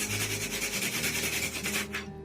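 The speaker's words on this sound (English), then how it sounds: "you can sand them with a little nail file or a bit of sandpaper, just along that tab front there" A balsa tab is rubbed down with a small nail file or sandpaper, giving a close, steady run of quick scratchy strokes in an even back-and-forth rhythm that stops near the end.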